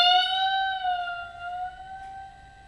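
A single picked electric guitar note sustains and slowly bends up and down, played slowly as a string bend riff, its ringing, clear, close tone fading gradually without talk.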